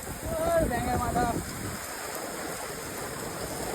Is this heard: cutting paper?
no